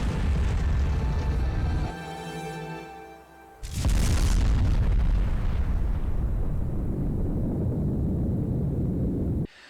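Drakengard 2 game scene of a black explosion at a tower: a deep rumble drops away, then a sharp burst sets off a loud, sustained roaring boom that lasts several seconds before cutting off.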